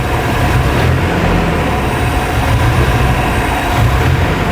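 1997 Nissan pickup engine, running lean, revving up and down, a dense rough engine roar that stays loud and steady at close range, with no talk.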